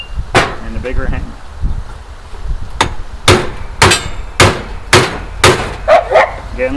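Sharp metallic hammer blows ring out in an irregular series, about a dozen strikes of a big hammer on a chisel against hardened steel while removing a stubborn universal joint, with a dog barking and someone talking in between.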